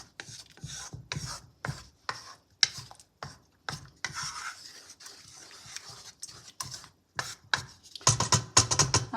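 Flour, butter and cream are stirred in a pot, giving close, repeated scraping and rubbing strokes in an uneven rhythm.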